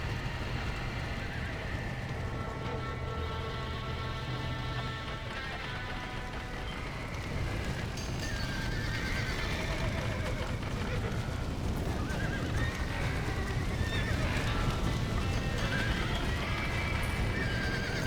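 Horses whinny and neigh repeatedly among clattering hooves in a burning barn in Red Dead Redemption, with a busy, dense background of commotion.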